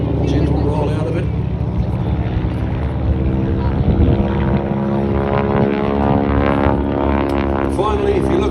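A T6 Harvard warbird propeller airplane flying a barrel roll at an airshow, its engine drone loud and steady throughout with a shifting tone, while an announcer talks over it.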